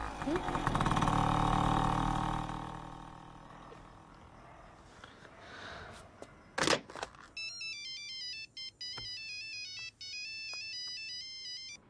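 An incoming call sets off a phone ringtone, a bright repeating electronic melody that plays steadily on its own after a few fading rumbles and a sharp knock.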